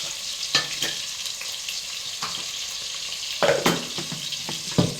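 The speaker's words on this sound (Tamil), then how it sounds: "வெங்காயம் வதங்கட்டும்" Onion sautéing in a pan, a steady hiss of frying broken by several sharp stirring scrapes and knocks of a spoon against the pan, with no one speaking.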